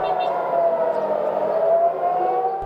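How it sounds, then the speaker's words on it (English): Air raid sirens wail over Tel Aviv during Iranian missile threats, a loud, steady, sustained tone that slowly wavers in pitch and carries through the whole stretch. "Sirens over Tel Aviv today signalled Iranian missiles can still threaten its enemies in the region"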